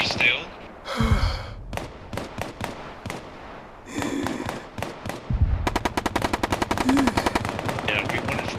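Gunfire in the video game Bellum: scattered single shots and short bursts give way to long, rapid automatic fire in a dense, loud rattle, with voices and breathy sounds in between.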